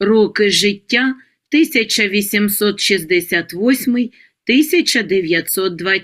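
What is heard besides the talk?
No distinct noise like a dog, phone or traffic.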